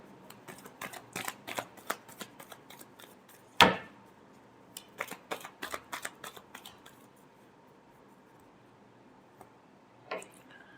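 Tarot cards being shuffled by hand, bursts of quick riffling clicks near the mic, one sharp slap of the deck partway through, then quiet with a final soft tap.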